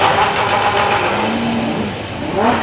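Lamborghini V12 engines at a supercar weekend event sound out loud and close, a dense throbbing roar with a rising rev sweep near the end, no talk over it.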